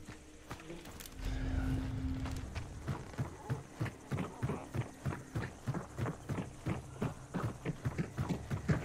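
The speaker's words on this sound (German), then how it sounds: "Pferd." Horse hooves clip-clop in the video game Hunt: Showdown 1896, starting after a low rumbling swell and settling into a steady, evenly spaced trotting rhythm of many fairly close hoof beats over a faint hum.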